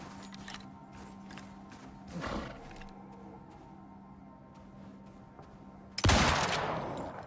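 Gunfire erupts while hunting a polar bear in the video game Icarus: a sharp, loud blast near the end follows a quieter earlier burst, over a steady low game hum.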